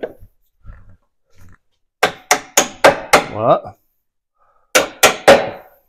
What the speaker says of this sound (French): Je vais y mettre un petit coup de marteau.